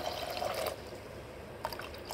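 Water is poured into toor dal in a pot while cooking a Tamil-style lentil kurma, a soft splashing trickle with a louder burst near the start and another toward the end.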